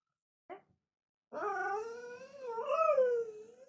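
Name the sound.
indie dog growling and barking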